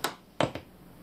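A large mechanical switch in a home music setup is flipped on: a sharp click, then a double clack, all close and crisp, with quiet room tone afterward.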